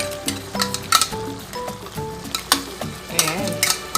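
Chicken caldereta sizzles in a pan as tomato sauce is added, with a steady frying hiss broken by repeated stirring clinks and scrapes of a utensil against the pan.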